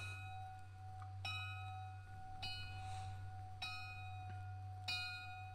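Stiff, metallic bell in an indie horror game, struck four times at roughly even intervals, each strike ringing out with bright overtones over a steady low hum.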